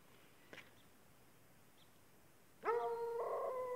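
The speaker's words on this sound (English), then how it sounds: "I think the dog across the lake disagrees." Across a lake, a dog starts a sustained howling bark, far off and moderately loud over a calm, hissy outdoor background after a faint earlier yip.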